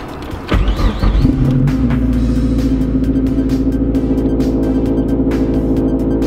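A Mazdaspeed 3 engine starts and settles into a steady idle after work on its in-tank fuel pressure regulator. A loud close rumble continues under a constant hum, with a few small ticks and no talking.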